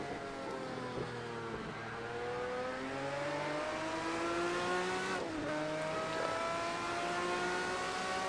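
A Group C Porsche race car in Project Cars 2 at the Hockenheimring screams at high revs, its engine pitch climbing steadily and then dropping abruptly at two gear shifts. The sound is continuous and close, with no voices.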